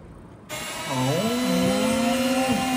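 A newly unboxed stand mixer switches on abruptly after a moment of quiet, its motor whining up in pitch and then holding a steady, loud electric hum up close.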